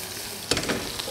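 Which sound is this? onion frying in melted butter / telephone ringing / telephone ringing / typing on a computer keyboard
onion frying in melted butter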